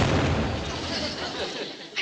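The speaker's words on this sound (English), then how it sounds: "I think that last one must have been an aerial bomb." A loud, sharp aerial bomb firework blast with a rumbling boom that rolls on and decays over two seconds, followed by a faint pop at the end.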